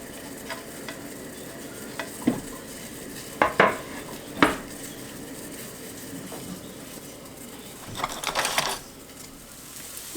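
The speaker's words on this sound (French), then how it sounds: "dans une sauteuse avec un petit peu d'huile d'olive, je vais y faire revenir un petit peu les oignons pour qu'ils deviennent translucides" Onions sautéing in olive oil in a sauté pan for risotto, a steady close sizzle with scattered sharp clinks and scrapes of a utensil against the pan, a busier rattle of stirring near the end.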